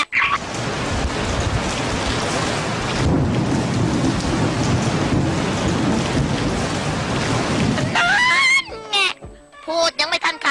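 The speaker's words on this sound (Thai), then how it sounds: "พูดยังไม่ทันขาดคำฝนก็เทกระหน่ำลงมา" Heavy rain pours down on a TV production set, a dense, loud, steady roar of water for about eight seconds, then it breaks off into voices talking and calling out.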